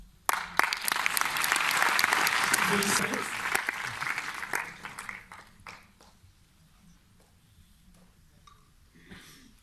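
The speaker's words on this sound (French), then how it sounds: "on peut applaudir une dernière fois le film Volcano" A festival audience at a film awards event applauds, a loud, dense burst of clapping that swells and then fades over several seconds, leaving a few scattered claps and murmurs at the end.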